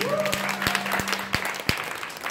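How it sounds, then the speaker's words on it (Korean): Audience applause at a K-pop showcase in a Korean Wave experience hall in Gangnam, where a group is being welcomed onstage. Clapping stays steady throughout with a few sharp louder claps, and a held tone sounds faintly underneath. "박수 한번 크게 부탁드릴게요."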